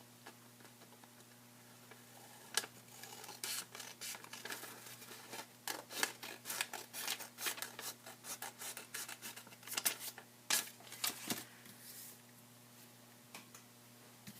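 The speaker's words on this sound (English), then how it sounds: "So I'm just going to cut off this part that I folded over." Scissors cutting folded origami paper, a series of close crisp snips and paper rasps in an irregular rhythm, set against a low steady hum and no talking.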